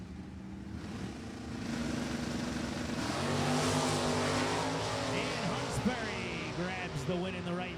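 Two Super Stock J automatic drag cars, a 1965 Chevelle and a 1989 Camaro, roar down an NHRA strip, engines rising loudly from a steady drone to a wider blast, with race announcer commentary running over the noise.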